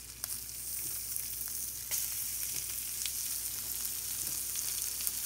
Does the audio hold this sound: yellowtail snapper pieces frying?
yes